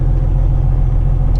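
Kenworth heavy truck with a 605 HP Cummins engine idling to warm up, a steady deep low rumble heard from inside the cab, loud and unchanging with no speech.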